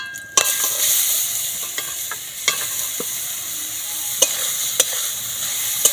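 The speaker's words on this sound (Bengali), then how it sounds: "গাজরগুলো দিয়ে ভালো করে একটু নাড়াচাড়া করে নেবো" Grated carrots sizzle steadily in hot ghee with cloves and cardamom while a spoon stirs them, scraping the pan with a few sharp clicks over the continuous frying hiss.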